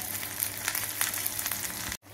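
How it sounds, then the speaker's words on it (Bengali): Grated coconut and dried red chillies fry together in a pan, making a soft, even sizzle that carries on alone until a brief cut near the end. "নারকেলটা ভাজা ভাজা হয়ে গেলে কতগুলো লাল লঙ্কা ওর মধ্যে দিয়ে দেবেন।"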